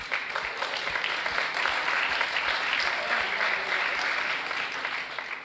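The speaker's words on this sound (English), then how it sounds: "A big applause for you." Audience at an art talk in Miami applauding a special guest, a steady wash of many hands clapping, moderately loud and sustained, then tapering off at the end.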